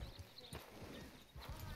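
A horse's hooves clip-clop in a video game, with soft, quick footfalls at low volume.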